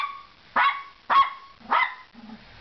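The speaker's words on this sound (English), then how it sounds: "No barking." A dog barks three times at a steady pace, close and fairly loud, followed by a short whine.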